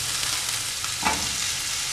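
Cut medium potatoes tossed into hot oil with an onion mixture for a potato roast, giving a steady broadband sizzle with one brief louder stir or drop near the middle.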